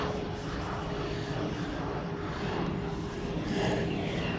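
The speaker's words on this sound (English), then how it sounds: "that looks like a private jet coming into Norman right there" A private jet flying overhead on approach to Norman, heard as a faint, steady engine drone across a quiet backyard, slowly swelling slightly toward the end, with no talking.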